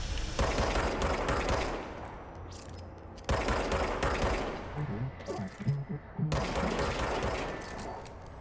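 Bursts of rapid automatic gunfire from a weapon in the video game Control, loud and dense, in three long volleys separated by short pauses.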